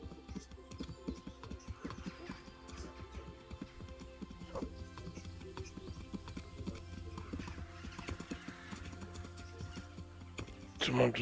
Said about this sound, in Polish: Ale wytrzymały koń.